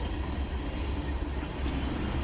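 A Norfolk Southern manifest freight train rolls past with a steady low rumble and rail noise, continuous and moderately distant, with no voices.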